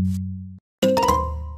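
A Minecraft doorbell rings out: a low tone fades and stops, then after a short silence a bright, clanging ding-dong chime rings and rings on, loud and close.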